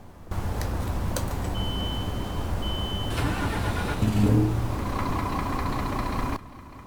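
A truck engine in Euro Truck Simulator 2, fitted with a Kurt exhaust, cranks and catches, then settles into a steady, close, loud idle with a brief swell in the middle before cutting off abruptly.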